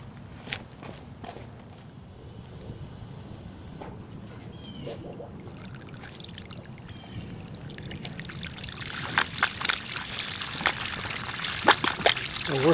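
Water running through an outdoor patio sink after leaves and debris were cleared from a blockage, a steady close trickling and pouring that grows louder and busier toward the end.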